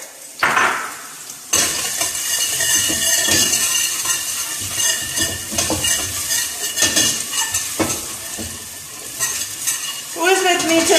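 Chopped garden herbs hit a hot pan and sizzle steadily while a utensil stirs and scrapes against the pan, with occasional metallic clinks throughout.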